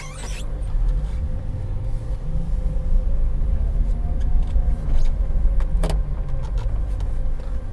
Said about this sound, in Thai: ตอนนี้ผมขับรถอยู่ใน PA นะครับ